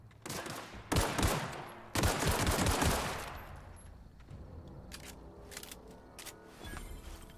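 In the video game Outer Worlds, guns fire in loud bursts. Two heavy volleys ring out close together, and a few fainter scattered shots follow as the noise dies down.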